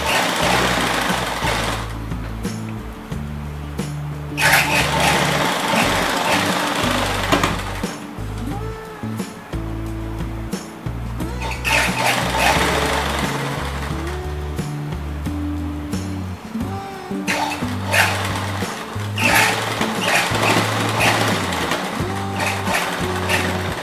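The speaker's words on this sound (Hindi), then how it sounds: "तो यहाँ से हम दाब सिलाई स्टार्ट करेंगे।" Sewing machine running steadily as it stitches the inner seam of a salwar, a loud continuous mechanical whir in bursts with brief pauses between runs, no talking.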